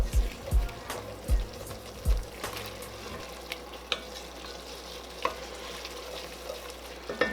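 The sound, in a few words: deglazing the beef stew pot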